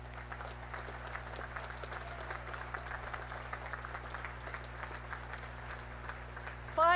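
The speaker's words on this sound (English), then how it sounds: "Please join me in recognizing and applauding" Audience at a Naval Academy Class of 2025 commissioning ceremony applauding distinguished graduates, a steady wash of clapping from a large crowd held at an even level throughout, with a faint hum beneath.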